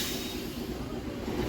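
An old Kolkata tram runs along its rails on the Shyambazar–Esplanade route, a continuous low rumble and rattle of wheels heard from on board, steady and fairly quiet.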